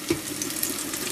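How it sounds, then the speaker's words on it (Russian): Cutlets sizzle in a frying pan beside a pot of vegetables coming to the boil in a home kitchen, a steady close hiss and bubbling with no voices. "отбивные вот такие вот поджариваю себе. И тут у меня уже закипает"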